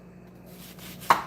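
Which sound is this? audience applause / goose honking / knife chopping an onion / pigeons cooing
knife chopping an onion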